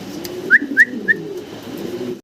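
A giant homer pigeon gives three short, clear coos in quick succession, close and fairly loud, followed by a quieter stretch of soft low background murmur.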